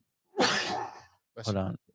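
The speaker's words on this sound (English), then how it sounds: "Bless you. Was it a sneeze?" A single loud sneeze bursts out, followed a moment later by a shorter voiced exclamation, then quiet.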